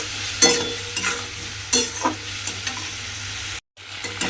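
Spice paste with a splash of water being stirred and fried in a pan for a vegetarian pumpkin dish, with soft sizzling under repeated scraping strokes of a spoon, close and fairly quiet, ending in a brief dropout.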